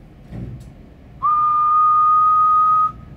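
One long, steady whistled note into a Cobra 29LTD CB radio microphone, clear and sustained for nearly two seconds after a short murmur.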